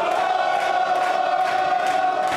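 A crowd of soccer fans at a family-owned Sacramento sports bar roars and chants during a World Cup match, a loud, dense wall of voices with a sustained shouted tone throughout.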